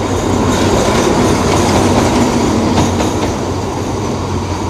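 Express train 632 stands at a station during a locomotive change, giving off a loud, continuous rumble with faint rhythmic clacking and metallic hiss throughout.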